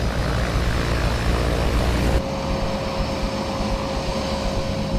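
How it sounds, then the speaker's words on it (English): Twin turboprop engines of a Grumman Mallard seaplane, a loud, steady droning roar with a sustained tonal whine, close and continuous, shifting in character partway through. "The Grumman Mallard is a twin turboprop design."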